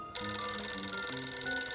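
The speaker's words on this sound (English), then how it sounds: "Receive phone call at payphone." A payphone rings in the PC video game No One Lives Forever, a loud, steady electronic bell tone sounding continuously on its own with no talk over it.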